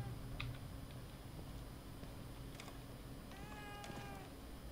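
A cat in The Evil Within 2 meows a few times, fairly quiet and set back against steady game ambience, with a higher rising call near the end and no talk.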